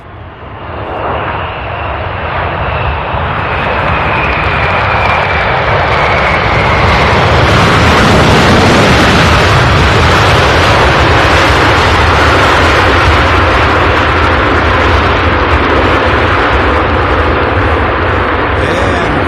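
A FedEx cargo plane at night at SDF airport near the UPS Worldport, its loud jet engine roar building steadily over several seconds and then holding as a sustained, rumbling wash of noise, heard alone.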